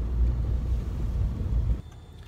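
Steady low engine rumble and road noise from inside a car driving around, loud and continuous, dropping to a quieter hum near the end.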